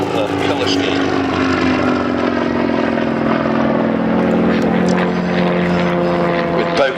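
Propeller engine of a Percival trainer aircraft, a loud steady droning hum with a sustained tone that shifts slightly in pitch, heard up close throughout.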